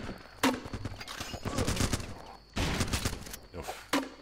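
Rifle and machine-gun fire rattles in dense bursts in the war game Running with Rifles, and a few sharper single shots stand out.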